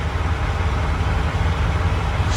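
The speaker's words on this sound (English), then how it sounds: "She doesn't like hearing the truck run." A semi truck engine idles close by, a steady low rumbling drone with no change in pitch.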